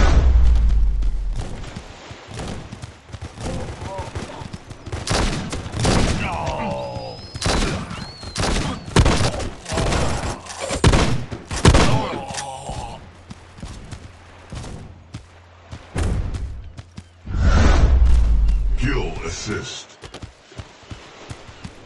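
Repeated gunfire bursts from the mobile shooter game Guns of Boom during a point-capture match, rapid shots and booms clustered through the middle with game announcer voice lines over the action.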